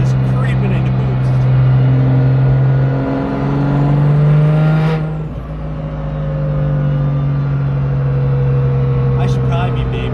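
A 750-horsepower BMW 135i engine revs hard, its droning note climbing as it creeps into boost, loud and close from inside the car with a voice talking over it.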